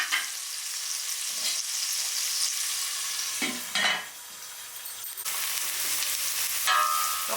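Onions frying in an open pan for chicken fry piece biryani, a steady loud sizzle with a few clinks and scrapes of stirring, no voices.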